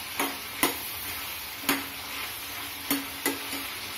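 Tomatoes join capsicum and onion stir-frying in a pan for egg chilli: a steady sizzle punctuated by sharp, fairly regular clacks of a spatula striking the pan.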